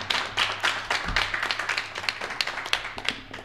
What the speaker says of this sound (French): On peut encore l'applaudir, je pense